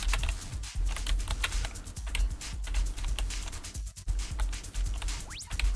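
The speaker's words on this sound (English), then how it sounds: "You can listen to the keys clack though." Computer keyboard keys clack in quick, uneven bursts of typing, close and fairly loud, with no talking over them.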